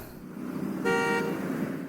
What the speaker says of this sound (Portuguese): É o Jesse buzinando?